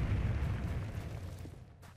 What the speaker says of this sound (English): It's a giant exploding fireball.